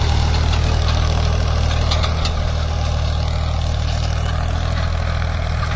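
Powertrac 439 Euro tractor pulling a cultivator through a field in high gear, a steady low diesel engine drone, loud and close, running without pause.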